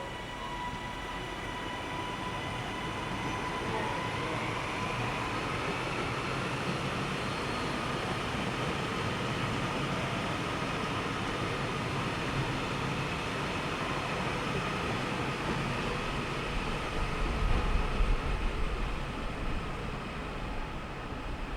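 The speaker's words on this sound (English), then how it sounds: "397006 was waiting to leave from Platform 4 with 1 Mike 82, the 711 Glasgow Central to Manchester Airport service" Class 397 electric multiple unit 397006 idling at Carlisle station platform on a Glasgow Central to Manchester Airport service, a steady loud hum and whine with a rising tone, continuous and close, no voices.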